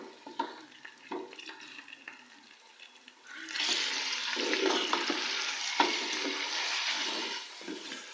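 Half a kilogram of mutton added to onion and ginger-garlic paste, with scattered stirring clinks first and then a loud steady sizzle of frying that continues to the end.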